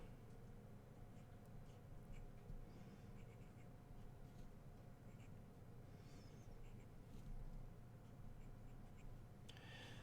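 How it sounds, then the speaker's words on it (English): A fountain pen scratches across paper in close, quiet strokes, a soft continuous rasp with small ticks and lifts, faint against a low room hum. "writing with this pen because it's a little easier to use than an Architect nib"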